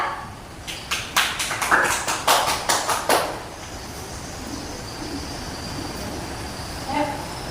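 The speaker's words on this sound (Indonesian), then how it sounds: "Berikan aplaus dulu untuk temannya." A short round of classroom applause for a student: a quick burst of rhythmic hand claps lasting a few seconds, then quiet room tone.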